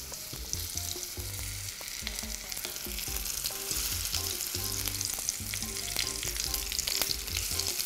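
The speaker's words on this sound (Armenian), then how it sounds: "Բոլոր կողմերից տապակում ենք և ըմբոշխնում։" Food fries in a pan with a constant crackling sizzle, spattering fat and occasional stirring scrapes, fairly steady and close throughout, with no voices.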